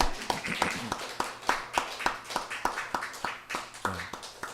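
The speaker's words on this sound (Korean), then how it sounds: "우리 박수로 하나님께 영광 돌리겠습니다." A church congregation claps at a Sunday worship service, giving a round of sharp, fairly quick claps that stay close and moderate in level, with a few voices murmuring underneath.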